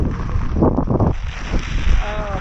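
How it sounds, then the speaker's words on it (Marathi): Strong wind and rain roar and buffet the microphone in steady gusts on a mountain fort during the monsoon, a broad rushing noise outdoors with no other clear sounds. "पाऊस आणि वारा जास्त आहे"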